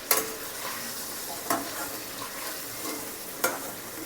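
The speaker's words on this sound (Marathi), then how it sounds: "आता हे वांगी आपण एक दोन मिनटं तेलामध्ये परतून घेऊया चांगली" Brinjal (eggplant) pieces fry in oil in a pan, giving a steady close sizzle with a few sharp spatula scrapes spaced out across the stretch.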